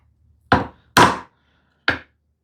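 A chisel chops into wood in three sharp, separate strikes, the first two close together and the third after a short pause, each crisp and loud against near silence.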